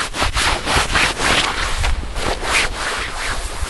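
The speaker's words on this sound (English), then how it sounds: "your legs rubbing together, so it is kind of noisy" Cotton-poly blend ACU field jacket fabric rubbing with walking motion, a steady scratchy swishing in close, repeated strokes with no pauses.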